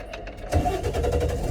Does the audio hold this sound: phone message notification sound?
no